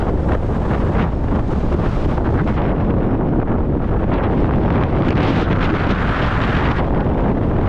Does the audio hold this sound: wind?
yes